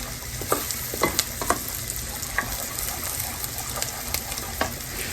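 Onions and garlic frying in a pan, a steady sizzle with intermittent stirring scrapes and light clinks of a utensil.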